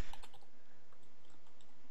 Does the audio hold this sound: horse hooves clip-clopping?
no